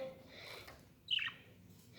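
A single bright chirp from a budgerigar rings out once over quiet background murmur.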